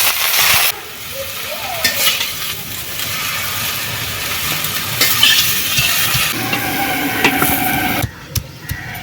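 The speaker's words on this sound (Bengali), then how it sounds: "এবারে এই দু কালারের ফুলকপি দিয়ে দেব কড়াইয়ের মধ্যে" Two-colour cauliflower hits hot mustard oil in a wok and sizzles loudly and steadily, a dense crackling frying noise with occasional stirring clatter, dipping briefly before picking up again near the end.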